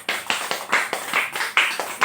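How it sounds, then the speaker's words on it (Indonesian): A small classroom group claps together in a quick, uneven burst of bright hand claps, close and moderately loud, with no talking over it. "tepuk tangan untuk kita semua"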